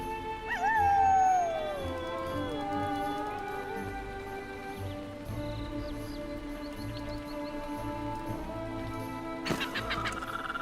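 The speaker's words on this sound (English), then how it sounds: "It also even does the wolf howl." A wolf pet in the online game The Lord of the Rings Online lets out a long, wavering howl that rises and then slides down, followed by quieter game ambience and a brief burst of sounds near the end.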